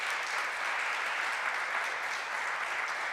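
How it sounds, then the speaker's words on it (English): Steady, dense applause from an audience at a commemorative event for the National Day of Remembrance and Action on Violence Against Women, a continuous even wash of many hands clapping with no voices over it. "Can we give everyone who is involved in organizing this event a big round of applause"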